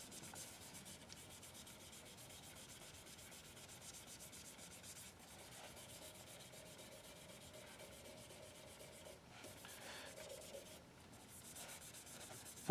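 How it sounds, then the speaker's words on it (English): Quick cross sanding of a handmade brush handle with 400 grit sandpaper, a soft steady rubbing scrape repeated in short strokes, quiet and close with no talking. "This just takes a real quick cross sand."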